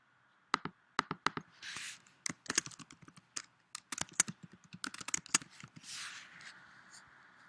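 Brisk keystrokes tap out a name on a computer keyboard, close and clear, in uneven bursts of clicks with short pauses between words.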